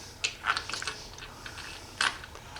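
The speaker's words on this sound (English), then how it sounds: "tighten it in the vise" A 3/8 bolt with a punch is tightened in a vise, giving a few close metallic clicks and scrapes with a brief clinking burst near the end, quiet and without talk.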